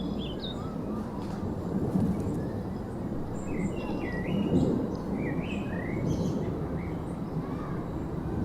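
Birds chirp and sing in scattered short phrases across Gladstone Park in North London, faint and somewhat distant over a steady rumble of background noise.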